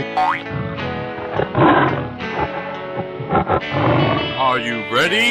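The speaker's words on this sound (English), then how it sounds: "Tiger." A stylized tiger roar growls out in a 3D animal slide video game, loud and processed, mixed with game music and bouncy effects.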